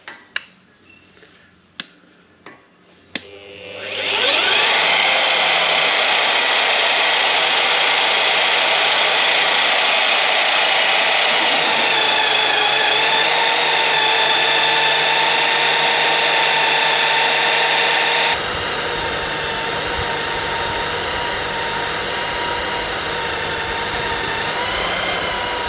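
Vevor Model 40H magnetic base rotabroach drill with a high-speed steel cutter: a few clunks, then the motor spins up into a loud, steady high whine with a grinding cutting tone.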